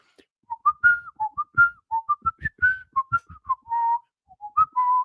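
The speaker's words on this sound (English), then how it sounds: "Can you whistle?" A person whistles a short, lilting tune up close, a quick string of bright notes with small pauses between phrases.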